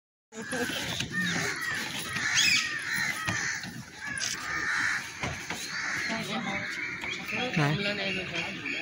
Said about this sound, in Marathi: पक्ष्यांचा किलकिलाट सतत ऐकायला येतो. कोकिळा, मैना व इतर पक्षी.